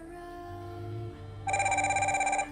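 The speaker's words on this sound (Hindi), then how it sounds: "इस मोबाइल के ऊपर कॉल आ रही है और वो देखें इस वॉच के ऊपर शो कर रहा है कॉल, और साथ इसकी आवाज़ भी आ रही है" An incoming call rings on a mobile phone paired with an N76 smart watch: a steady low tone, then a louder, rapidly pulsing electronic ringtone bursts in for about a second, close and clear with no talk.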